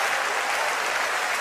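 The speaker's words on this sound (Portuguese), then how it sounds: "dá uma salva de palmas ao Senhor" A church congregation applauds during worship, a brief burst of dense, even clapping from a large crowd, loud and continuous.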